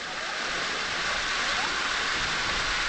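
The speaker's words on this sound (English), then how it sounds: "Ay, Cascade Waterfall." A cascading mountain waterfall roars in a constant broadband rush of falling water, loud and steady with no breaks and no voices.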